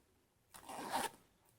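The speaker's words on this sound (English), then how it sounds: "take and close your zipper" The zipper on a handmade purse is pulled closed in one quick, smooth zip lasting about half a second, close and clear against an otherwise quiet room.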